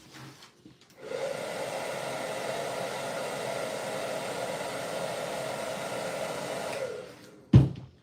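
A heat gun blows hot air onto the vinyl of a handmade puppet, a steady close roar that switches on after a second, holds for about six seconds and cuts off, followed by a brief knock.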